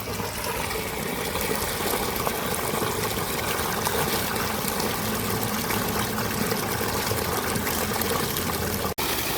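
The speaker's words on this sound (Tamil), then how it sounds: "நல்லாவே வாய்க்கா பசங்களுக்கு தண்ணி போய்கிட்டு இருக்குது" Continuous rushing and gurgling of water flowing steadily through a field irrigation channel from a three-inch pump delivery pipe, fairly loud and unbroken, with no voices.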